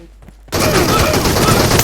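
Sustained, loud gunfire from the mobile battle royale game PUBG Mobile starts abruptly after a brief quiet lead-in and continues as a dense, rapid barrage of shots.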